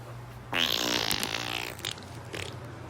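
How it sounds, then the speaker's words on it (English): A close, loud fart rasps for about a second and a half during a casual podcast recording, followed by faint room rustling. "oh no, I'm farting"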